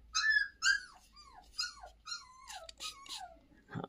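A stray puppy, one of a litter abandoned at a doorstep, lets out a string of high, wavering whimpers and whines, close and fairly soft, ending in a short sharp yip.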